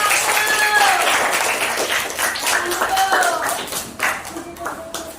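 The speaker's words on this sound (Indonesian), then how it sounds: "Beri tepuk tangan yang meriah untuk kelompok" Classroom audience of teachers and students claps loudly for a performing group, lively uneven clapping with cheering voices and talk mixed in, fading slightly toward the end.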